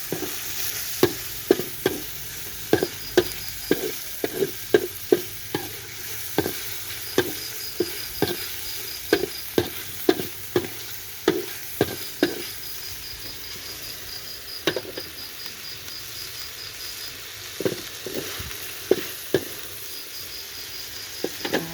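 Pork liver with hed phao mushrooms is stir-fried in a pan: a steady sizzle broken by repeated sharp spatula scrapes and taps in an irregular rhythm, with a thin high chirping tone running through parts of it.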